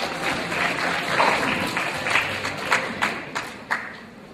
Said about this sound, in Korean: 여러분들 박수 부탁드리겠습니다.